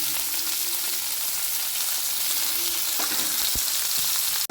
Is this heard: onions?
yes